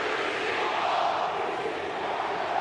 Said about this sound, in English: the Wanderers crowds have decided that even if the RBB aren't going to be involved in the chanting, the other stands are going to lead the way